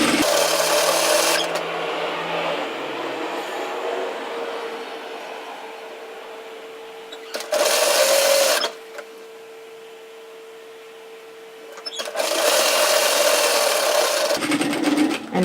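A sewing machine stitches the band onto a woven Kelly kimono robe in three loud, close bursts of rapid whirring separated by quieter pauses with a faint steady hum.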